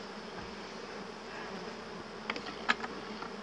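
A dense swarm of honeybees buzzing steadily around a hive during transfer into a new hive box, a continuous droning hum with a few sharper clicks and knocks near the end, no talking.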